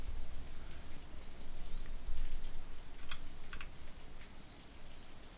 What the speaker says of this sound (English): Did they update this game? I don't remember there being rain before.